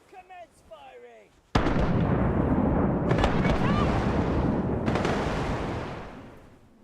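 Cannon fire erupts in the video game Rise of Piracy as a sudden loud boom that rolls into a sustained, dense roar of broadside fire with fresh blasts layered in, fading at the end after a brief voice at the start.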